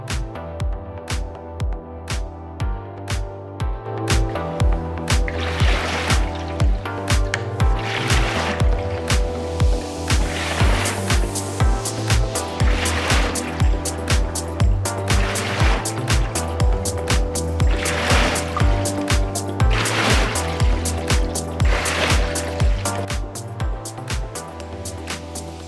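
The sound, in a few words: water sloshing in a WaterRower rowing machine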